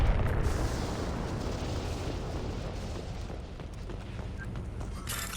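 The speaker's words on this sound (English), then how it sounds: "don't use explosive things for cover. Because I'll just shoot the explosive things." Explosive objects are shot and blow up during a firefight in the Mass Effect 2 video game, heard as a sustained deep rumbling blast with a burst near the start, rolling on at moderate loudness.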